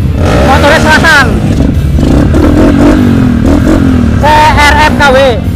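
A motorcycle engine revs loudly and close by, rising and falling in pitch in repeated bursts with a rougher idle between them on an outdoor trail.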